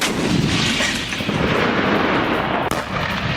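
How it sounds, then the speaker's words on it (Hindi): Howitzer artillery fire in Bakhmut rolls as a heavy, continuous rumble, broken by one sharp crack near the end, with no voices. "होवित्जर तोपों से बरसाया ताबड़तोड़ बारूद।"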